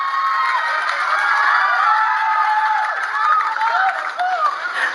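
Large outdoor crowd at a regional sports event in the Philippines cheering and shouting, high excited voices and children's yells forming a loud sustained roar with scattered clapping.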